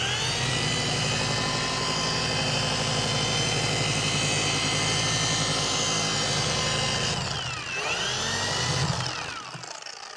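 A rotary polisher pad works over a car windshield during a glass cleaning and coating job, giving a loud, continuous close-up whirring drone with rhythmic pad pulsing that shifts and eases near the end.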